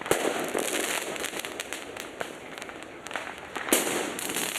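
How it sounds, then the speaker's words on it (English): Fireworks and firecrackers bursting at night in a downtown St. Louis plaza, a dense run of sharp cracks and pops at irregular intervals with a sustained crackling wash, heard at a moderate distance. "it became a firework firing range at Keener Plaza"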